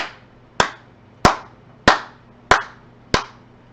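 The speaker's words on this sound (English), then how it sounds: "Those are some good claps right there, son." Hands clap one at a time, six sharp, close, loud claps at an even pace of roughly one every 0.6 seconds, with quiet gaps between them.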